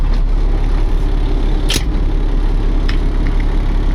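A wrecker truck's engine running steadily in first gear, a loud, close low rumble throughout, with a couple of brief clicks or clanks over it.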